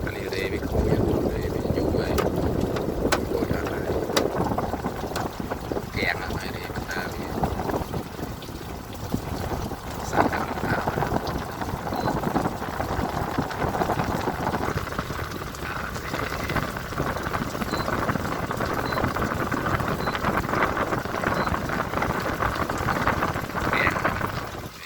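A repaired steam fan runs and blows air, giving a steady, close whooshing rush of airflow with a faint mechanical hum that holds evenly throughout.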